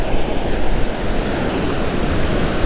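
Strong wind gusts across a beach during surf fishing, roaring into the microphone as a dense, loud rush that blends with crashing surf and runs unbroken through the whole clip.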